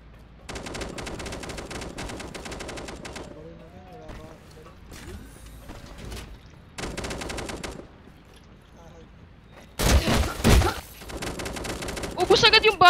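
Automatic gunfire in the battle royale shooter Crossfire Zero comes as several sharp, rapid bursts broken by short gaps, followed by louder shots near the end, while someone talks in between.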